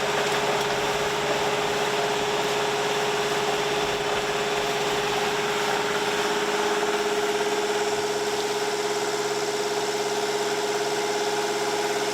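A boat engine running at idle power on a sailing outing, a steady, unbroken mid-pitched drone with a constant hum and vibration; no voices.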